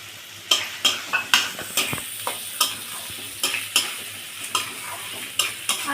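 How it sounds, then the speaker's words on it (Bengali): Fried potatoes being sautéed in a spice masala in a pan, a soft steady sizzle under repeated sharp scrapes and knocks of a spoon against the pan, close and clear with no talking. "আমি তাই সামান্য একটু কষিয়ে নিচ্ছি।"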